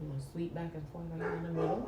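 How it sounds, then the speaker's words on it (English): A pet dog barks and yips repeatedly at close range indoors, running underneath steady talking from a person in a room throughout. "Sorry about my dog, guys."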